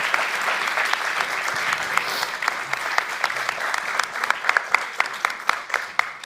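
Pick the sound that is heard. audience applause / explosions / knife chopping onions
audience applause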